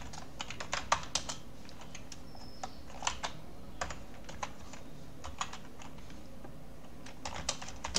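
Computer keyboard keys are tapped in irregular bursts of sharp, close clicks separated by short pauses, with a faint background hum and no voices.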